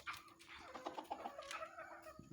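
Native farm hens cluck in short, uneven bursts nearby, several birds overlapping softly in a quiet poultry yard with no one talking.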